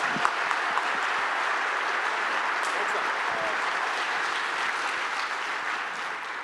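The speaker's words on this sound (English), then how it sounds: "so let's watch him with some applause." Audience applause fills a hall at the closing of the CascadiaJS 2019 JavaScript conference, a dense, steady wash of many hands clapping that holds evenly throughout with no voices standing out.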